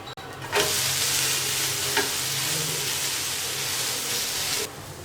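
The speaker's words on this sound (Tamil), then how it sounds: "தோசையை திருப்பி போட்டுக்கலாம்." An onion dosa sizzles loudly and steadily on a hot pan, a continuous frying hiss running for several seconds with a brief scrape as it is flipped, no voices.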